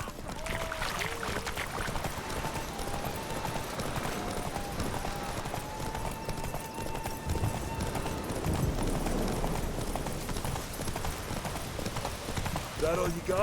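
Horse hooves gallop in The Witcher 3 as Geralt of Rivia rides with companions, a steady clip-clop running under game music and occasional voices for the whole stretch.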